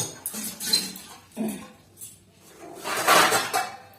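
A metal lid goes onto a pot of chicken being cooked at home, with a few close clinks and scrapes of cookware spaced over a few seconds and a louder rattle near the end.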